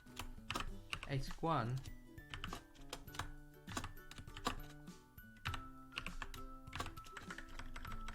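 Computer keyboard typing, close and clicky, with quick irregular keystrokes running throughout while a person talks over them.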